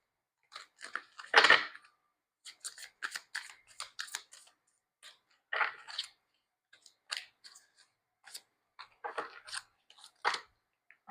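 Irregular bursts of crisp riffling and snapping, close by, repeating in quick clusters with short pauses between, no voices.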